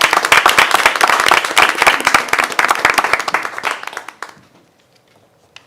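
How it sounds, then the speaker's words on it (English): An audience claps for honoured teachers, with dense, steady applause that fades out and stops after about four seconds, leaving near silence. "Please join me in a round of applause for these teachers who exemplify such expectations."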